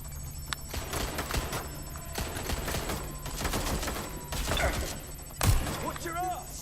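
Gunfire in a chaotic firefight in Watch Dogs: Legion, with dense rapid bursts and shots over a continuous background rumble, plus a sharp loud crack near the end and some electronic chirps.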